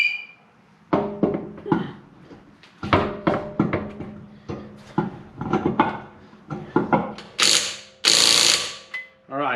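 A hand ratchet tightens wheel nuts on a Lincoln MKZ in close, crisp bursts of rapid clicking, pausing between nuts, with a couple of louder metallic clanks near the end.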